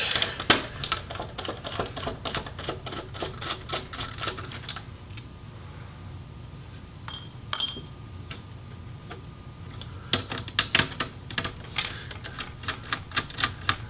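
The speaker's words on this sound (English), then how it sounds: "we're also going to want to remove the screws for the DC jack" Screws come out of a Dell G7 7588 laptop during disassembly, heard as rapid close clicks and ticks from the driver, in dense bursts with a brief quieter stretch midway.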